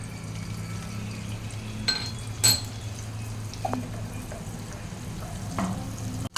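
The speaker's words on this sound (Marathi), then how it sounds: "आता ह्याच्यात आपले आलं लसूण पेस्ट टाकायची आहे" Ginger garlic paste frying in ghee in a pan for veg pulao: a soft, steady sizzle with a low hum underneath and a few sharp clinks of a utensil against the pan.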